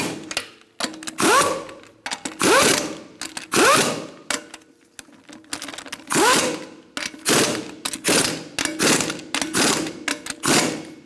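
Ratchet tightening lug nuts on a 2002-2006 Honda CR-V wheel, heard as repeated bursts of rapid clicking, about nine close, loud runs separated by short pauses, with no talk.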